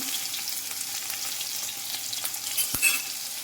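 Steady, bright hissing sizzle of shallots and small bird's-eye chillies frying in a clay pan, continuous throughout, with a soft clink near the end.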